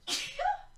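A single short, sharp human sneeze, close and fairly loud, with a breathy burst followed by a brief voiced tail, and nothing else around it.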